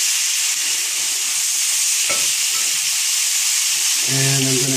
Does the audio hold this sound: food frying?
yes